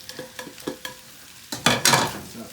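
Scallions are tossed into a pan of salt and pepper shrimp and stir-fried, with several sharp spatula scrapes and clinks, then a sudden louder burst of sizzling as they hit the hot pan.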